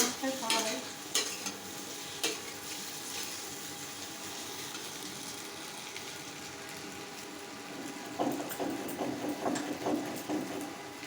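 Eggs cooking in a pan, with a soft, steady sizzle and frying hiss running throughout, broken by a few louder clinks and stirring scrapes near the start and a burst of clattering toward the end.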